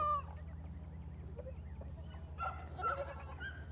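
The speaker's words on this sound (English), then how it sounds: "Look, you even got a chicken in here." Chicken clucking in a farm animal pen alongside goats and sheep, a few short clucks and squawks over a steady low hum, with a busier burst of calls near the end.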